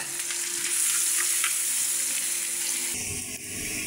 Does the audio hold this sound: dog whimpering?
no